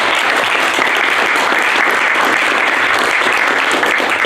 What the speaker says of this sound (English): just a round of applause for the presenters so far today